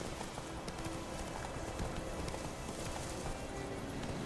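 Roach the horse gallops in The Witcher 3: The Wild Hunt, hooves drumming in a fast, steady clip-clop rhythm over a constant outdoor background.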